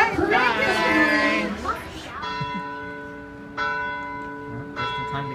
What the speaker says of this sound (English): Just in time to get the bells.